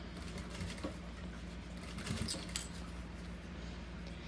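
A sewing machine runs at a slow, steady pace, stitching carefully along the edge of a fabric document holder, a soft continuous mechanical hum with faint clicks, close and fairly quiet.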